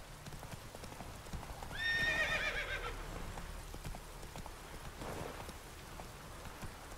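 Horse hooves clip-clop steadily in the video game The Witcher 3, with a brief whinny early on and soft rain in the background.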